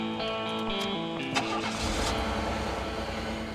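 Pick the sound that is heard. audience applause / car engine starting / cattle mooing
car engine starting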